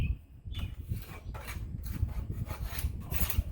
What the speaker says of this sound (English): Taking a wire brush to it.